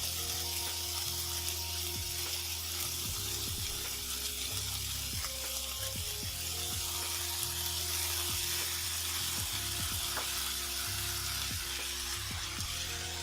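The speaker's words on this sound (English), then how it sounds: "I'm going to start throwing in all the vegetables" Vegetables for burritos sizzle and crackle hard in a hot frying pan, a dense continuous hiss broken by occasional scrapes and thumps of food being added and moved, close and without speech.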